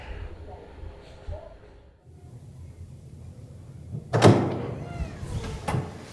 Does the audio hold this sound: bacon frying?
no